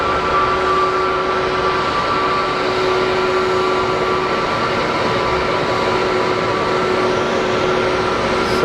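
Boeing 737 jet engines at Geneva Airport, a steady, loud broadband roar with a sustained whine, continuous and close throughout with no talk.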